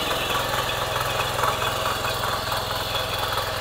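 Engine of a farm tractor or power weeder running steadily in a low, even throb with a rough mechanical rattle, moderately loud and close, with no voices over it.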